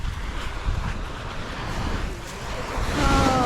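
Sea waves washing onto an Italian beach on a calm morning, a steady broadband wash with wind buffeting the microphone, swelling slightly louder near the end.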